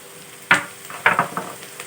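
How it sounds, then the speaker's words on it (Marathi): Chopped onion frying in oil in a pan for a potato paratha breakfast, with a quiet steady sizzle broken by a few soft stirring scrapes and clatters. "मोठ्या साईजचा कांदा बारीक आकारामध्ये कापून घेतला तो घालून घेतला अर्धा सेकंद कांदा आपण यावरती तेलामध्ये परतवून घेतला"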